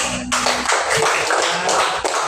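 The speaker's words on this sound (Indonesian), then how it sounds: "Ya, tepuk tangan dulu" A class of students claps hands together in a few short bursts, loud and close, with brief gaps between the rounds of clapping.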